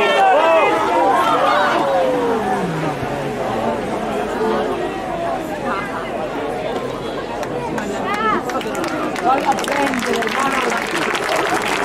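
Spectators applaud and cheer at a road speed skating race, a loud continuous wash of clapping and crowd chatter mixed with lively voices throughout.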